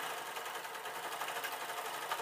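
A sewing machine fitted with a walking foot runs steadily while stitching a replacement mop cover, a continuous faint mechanical whir with no pauses or talk.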